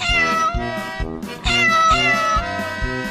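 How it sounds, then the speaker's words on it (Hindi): A cat and her kittens meow loudly and repeatedly, overlapping cries rising and falling, close by and without any talking. "अरे चिंटू, वो देखो, बिल्ली अपने सभी बच्चों को हमारे घर लेकर आई है।"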